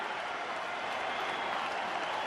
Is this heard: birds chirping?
no